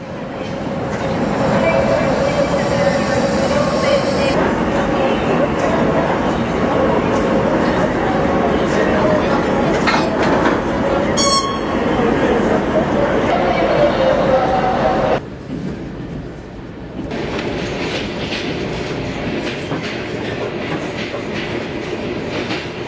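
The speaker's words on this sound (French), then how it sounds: "Cette puissante loco électrique nous abandonne pour être remplacée par une loco diesel." A train pulled by a diesel locomotive rolls along the rails, a loud, steady rumble with clickety-clack from the carriages, a brief sharp squeal partway through and a sudden drop in level near the end.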